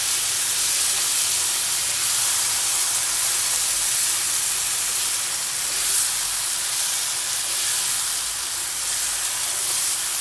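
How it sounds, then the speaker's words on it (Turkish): Pasta cooking water poured into a chicken arrabbiata sauce and stirred, giving a steady, loud hiss and sizzle that holds evenly throughout with no talk. "Şimdi makarnamın suyundan yaklaşık 1 su bardağı kadar ekliyorum. Ve karıştırıyorum."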